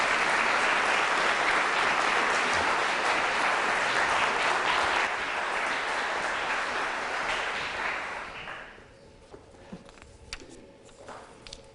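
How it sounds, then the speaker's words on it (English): An audience at a high school sports awards show applauds loudly and steadily for about eight seconds, then the clapping fades to scattered claps and quiet room noise. "Give him a round of applause"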